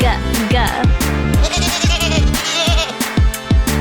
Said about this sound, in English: G is for goat